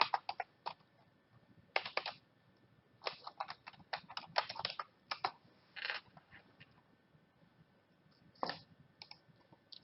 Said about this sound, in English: Type in the account name and the password.